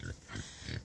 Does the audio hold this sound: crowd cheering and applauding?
no